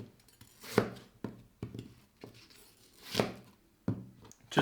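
A knife slices an apple into small pieces, giving about half a dozen close, crisp chops at an uneven pace with short pauses between cuts.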